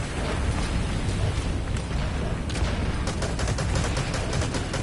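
Gunfire in Metal Gear Solid V: The Phantom Pain, a sustained fusillade of rapid shots and bursts over a dense, rumbling battle din, steady and moderately loud, with sharper clustered cracks toward the end.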